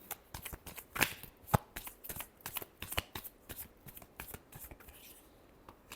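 Tarot cards shuffled by hand during a Taurus reading, with crisp riffling flutters and sharp snaps in an irregular close rhythm, moderately quiet and without talk.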